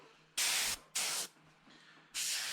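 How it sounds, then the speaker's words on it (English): Water trap valve opened on an airbrush or compressor line, spraying water out into a paper towel in sharp hissing bursts: three loud blasts and a quieter one, each lasting about a third of a second, with no voices. "is me opening the valve and letting the water from the water trap spray out into my paper towel there."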